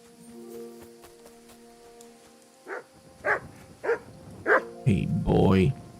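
Mutt, a dog in the game Kingdom Come: Deliverance II, lets out a run of four or five loud, evenly spaced barks over quiet in-game ambience, and a voice speaks near the end.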